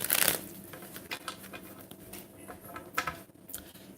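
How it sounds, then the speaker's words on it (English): Tarot cards shuffled by hand in a general reading, with a loud riffle at the start followed by repeated soft papery flicks and slides, close and unaccompanied by speech. "I'm going to shuffle this 5 times today."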